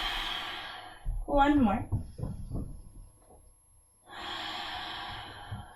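Deep, audible yoga breaths in downward facing dog during a flow class: a long nasal inhale with a snort-like edge, then a slow exhale and another breath, close up, with a brief spoken instruction.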